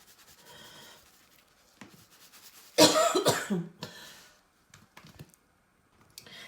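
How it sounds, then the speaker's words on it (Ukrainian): A burst of harsh coughing, several quick coughs close together set off by pepper while cooking, loud and near, with quiet rustling before and after. "Як тільки з'являється перець, в мене відразу я відразу починаю кашляти"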